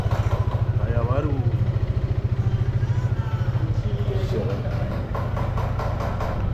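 A Zontes 368G motorcycle engine idles nearby with a steady, fast low-pitched pulse that runs throughout, loud and even, while people talk over it.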